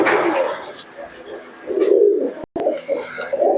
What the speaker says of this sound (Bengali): দেশি গিরিবাজ কবুতর